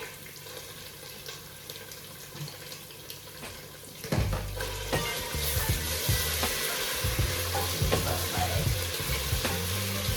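Tomato paste drops into a hot pot of oil for Nigerian jollof rice, bursting into a loud, steady sizzle after a quieter stretch of faint kitchen and water sounds, with stirring clatter through the frying.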